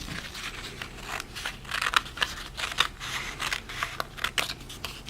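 Scissors snipping and trimming a piece of craft material up close, a run of quick, crisp cuts at an irregular pace with some faint rustling of the material between them.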